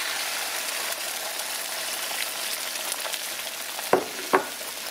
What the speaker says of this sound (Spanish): Y vamos a esperar a que se fríe.